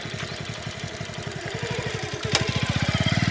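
A motorcycle engine after a kick-start chugs in a rapid, even thumping rhythm that grows louder and quicker near the end as it revs and pulls away, close by with no talk.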